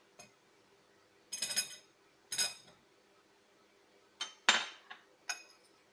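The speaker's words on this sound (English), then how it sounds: "Now I am adding cauliflower into it." Cauliflower is tipped and stirred into a bowl during Gobi Manchurian prep, making about six short clinks and scrapes in uneven bursts against a quiet background.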